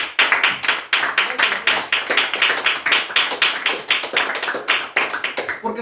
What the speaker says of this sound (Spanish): Dale palmas al Rey de Reyes.